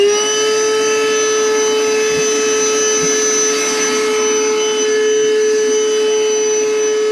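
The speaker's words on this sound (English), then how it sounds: "this is where the old vacuum comes in, because hopefully it will suck" An old vacuum cleaner runs with a steady, loud whine while sucking up cobwebs during a bathroom renovation, with a couple of brief knocks as the nozzle bumps surfaces; no one talks.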